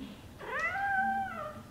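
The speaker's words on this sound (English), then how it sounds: "Our cat's back here just..." A cat gives a single drawn-out meow in a backyard raised-bed vegetable garden, rising and then slowly falling, close and fairly quiet against soft outdoor background.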